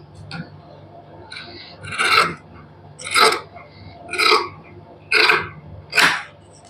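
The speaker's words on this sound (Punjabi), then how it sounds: "ਹੁਣ ਇਹਨੂੰ ਆਪਾਂ ਨਾ ਕਟਿੰਗ ਕਰ ਦਾਂਗੇ" Fabric for a matching lace-trimmed suit being cut with scissors, heard as five or six distinct, close crunching snips spaced about a second apart, separated by quiet pauses and with no talking.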